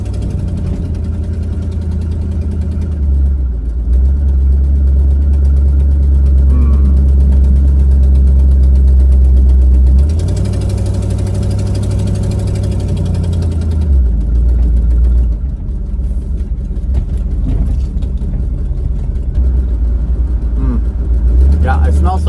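A car engine idles steadily while warming up, giving a loud, close, continuous low rumble that rises briefly in pitch partway through. Someone talks over it.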